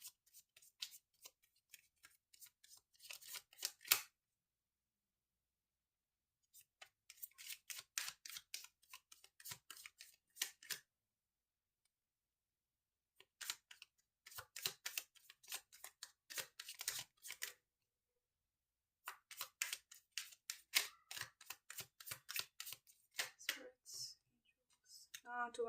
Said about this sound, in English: let me pull out some cards before I say anything